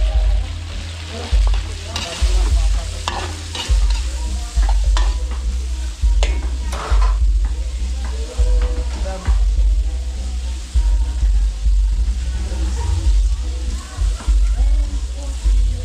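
Chicken liver and chicken breast fry in a pan for a catered birthday meal in Arayat, Pampanga, a loud close sizzle with repeated scraping and stirring clatter, a voice speaking occasionally underneath.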